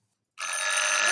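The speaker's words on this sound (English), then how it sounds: "In 1979, that was a telephone." An old 1979 electric telephone bell starts abruptly after a moment of silence and rings as a loud, continuous metallic jangle.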